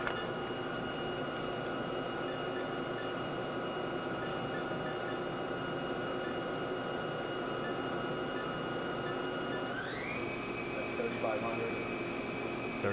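A Haas VF4 vertical machining center spindle runs steadily with a whining tonal hum, then ramps up in pitch near the end as speed rises, loud and continuous beneath a faint voice.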